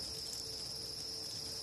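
Crickets being raised on an insect farm chirp in a steady, continuous high-pitched trill, close and even in level throughout, with no voices.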